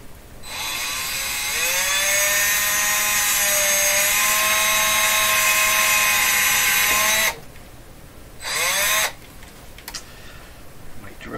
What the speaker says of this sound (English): Now we're going to grind this